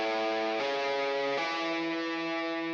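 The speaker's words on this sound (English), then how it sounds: "You now have a guitar, which was actually introduced beforehand," Sustained distorted guitar chords from the Derelict Site video game soundtrack, loud and steady with two chord changes, played alone without voices.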